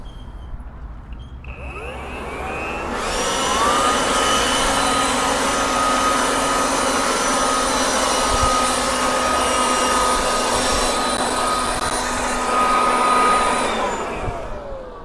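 Two Husqvarna leaf blowers run together, spinning up from a low start into a loud, steady, high-pitched whine and roar that holds for most of the stretch before easing off at the end, with no talking.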